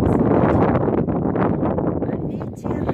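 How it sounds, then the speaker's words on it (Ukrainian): Strong wind buffeting the microphone in loud, continuous low rumbling gusts, with a voice audible underneath. "А вітер ужасний."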